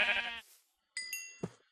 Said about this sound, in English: Thinking I'm gonna kill a few more sheep in case I need to make another bed along the way.